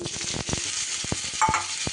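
Boiled jackfruit stirred in a little leftover frying oil, a soft continuous sizzle broken by repeated scraping strokes of a spatula against the pan, close by with no talking.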